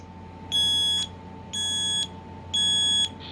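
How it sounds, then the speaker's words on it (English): A Kidde KN-COSM-B combination smoke and carbon monoxide alarm from 2007 sounds its test signal: three shrill, evenly spaced half-second electronic beeps over a faint steady hum, close by. "we have a Kidde KN-COSM-B smoke alarm"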